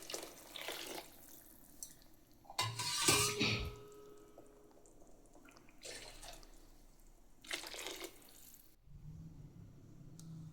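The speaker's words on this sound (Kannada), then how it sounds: "ನೆಕ್ಸ್ಟ್ ಇದಕ್ಕೆ 3 ಗ್ಲಾಸ್ ನೀರು ಹಾಕಿ" Hot water poured from a glass into soaked rice for a mushroom, fenugreek and pea pulao, heard as a few separate splashy pours with quiet gaps between them and no talking.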